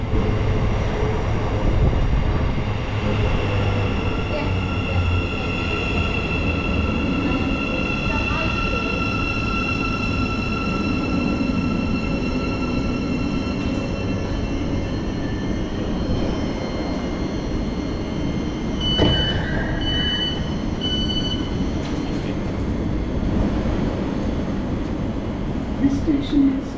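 A passenger train heard from on board between Huntingdon and Horsham gives a steady loud rumble and hum throughout, with faint squeals and an onboard announcement voice over it.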